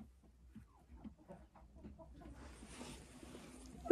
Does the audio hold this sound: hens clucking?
yes